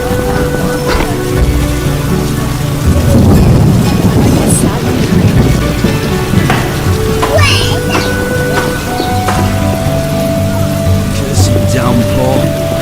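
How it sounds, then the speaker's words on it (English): Heavy rain in The Witcher, a steady wash of downpour with gusty swells, layered with sustained game music tones and occasional brief sharp accents. "Cursed downpour."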